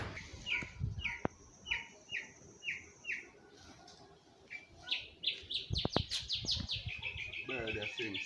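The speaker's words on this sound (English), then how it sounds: "Bird they sing sweet here" Small birds, called nightingales, sing in Jamaica with bright, repeated chirping phrases, some in quick rhythmic runs. The song sounds fairly close over a soft outdoor background, with a few thumps and knocks among the calls.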